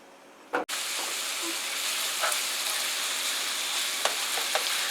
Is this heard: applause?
no